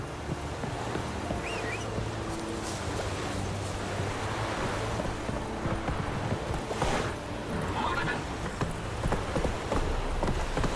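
Horse hooves trotting in The Witcher 3, a steady clip-clop rhythm mixed into a continuous wash of wind and surf-like ambience, moderately loud with no talk over it.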